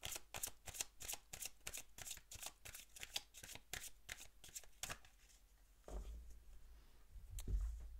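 Oracle cards being shuffled close up in a fast, rhythmic run of papery riffles for about five seconds, then softer handling and light bumps, with no speech.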